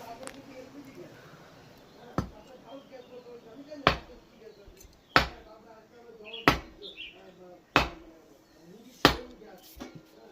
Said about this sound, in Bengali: ও এখন কাটছে উনুনের জন্য